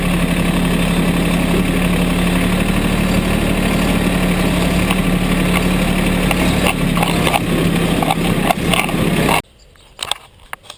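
A Mahindra 1526 compact tractor runs with the PTO engaged for mowing, its engine a loud, steady drone close by for about nine seconds before cutting off abruptly, leaving near-silence with a few faint knocks.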